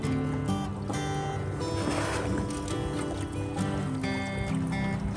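DIY electric jon boat cruising downstream on a river in fall, a steady mechanical hum with tonal whine and faint water movement, continuous and close throughout.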